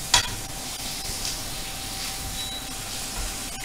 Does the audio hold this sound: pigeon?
no